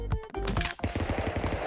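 Rapid automatic gunfire in the brawler Stick Fight: The Game, a quick loud rattling string of shots after a few opening blasts, all close and punchy.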